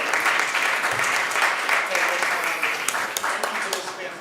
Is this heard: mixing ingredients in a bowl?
no